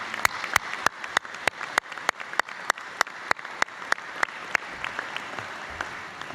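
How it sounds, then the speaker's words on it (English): A few people at a chamber of commerce luncheon clap for Business Hall of Fame inductees, with sharp, evenly spaced claps standing out close over a thin, quieter spatter of applause. "So I'd ask you for a round of applause recognizing those individuals."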